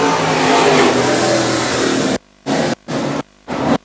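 Pro modified race cars roar around an oval track in a loud, sustained engine blare that swells and fades as they pass. The sound then breaks into several abrupt chopped bursts separated by silent gaps.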